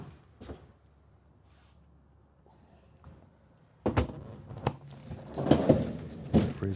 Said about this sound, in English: Freezer door.